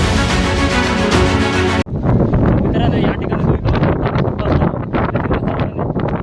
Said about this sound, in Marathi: समुद्रातील लाटा आणि वारा याचा वेग वाढू लागला